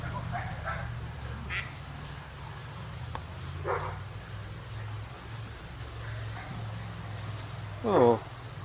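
Ducks quacking by a river, a few scattered quacks over steady outdoor rumble, with a louder burst of quacking near the end, fairly faint and with some talking.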